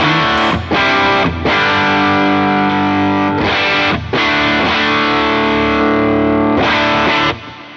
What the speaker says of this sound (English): You can hear like the 9 volt is, it breaks up quicker.